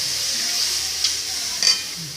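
Dal simmering in a pot with water added, giving a steady low hiss and bubbling sizzle throughout, with a couple of brief louder pops and spits near the end.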